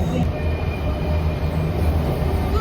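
A metro train in Istanbul rumbles loudly and steadily with a low mechanical roar, as if pulling into a station nearby.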